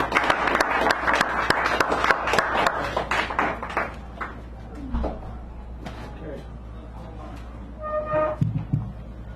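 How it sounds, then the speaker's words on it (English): Applause from a small audience at a café poetry reading, brisk clapping that fades after a few seconds into quieter room noise with scattered voices and a brief tonal beep. "Give him a round of applause,"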